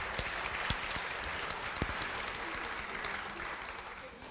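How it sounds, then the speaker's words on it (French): Sustained applause from a lecture audience fills the hall, a dense steady wash of clapping with a few sharper claps standing out, quite distant and even throughout. "Vous pouvez l'applaudir, oui, je pense que c'est une bonne idée."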